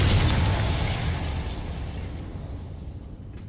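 A Confringo fire spell explodes in Hogwarts Legacy, a loud close burst with a booming low rumble that decays over a few seconds, no talk over it.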